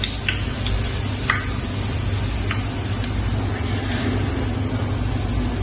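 Black cumin seeds hitting hot oil in a pot, giving a dense continuous sizzle with a few sharp crackles and pops, close and fairly loud.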